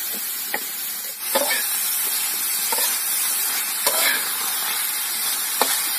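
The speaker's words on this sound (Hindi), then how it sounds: "ये मशरूम का सब्जी तवे में डाल दिया है, देख लो। और ये इसका आवाज भी मैं सुनाता हूँ आपको, छन करके आवाज आ रही होगी" Mushroom curry with chutney and masala sizzles steadily on a hot tava, a continuous bright hiss broken by a few soft stirring clicks and scrapes, close up with no talking.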